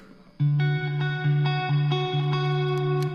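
An electric guitar with reverb and delay effects plays a few sustained notes, each one ringing out with a shimmering, echoing tail that lingers under the next.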